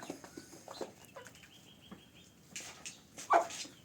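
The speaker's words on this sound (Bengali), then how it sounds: "এই পাশে সেটাও আর একটা মুরগা আছে এটাতে সাথে আছে একটা কালো মুরগি" Chickens cluck intermittently on a poultry farm with desi hens and a rooster, soft scattered calls at moderate distance with a louder burst near the end.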